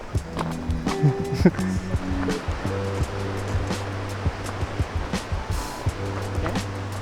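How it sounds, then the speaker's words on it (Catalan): A river rushes below a mountain hut on a multi-day trek around Posets, a steady broadband roar with scattered knocks and clatters nearby, no speech. "aquí sota està el riu"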